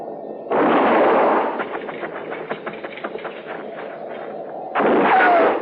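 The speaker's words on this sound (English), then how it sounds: "I'm going to fire and roll away, maybe draw a shot." Gunshots ring out in a radio western drama, with a loud blast followed by a rapid string of cracks and a second loud shot near the end, set against a quiet backdrop.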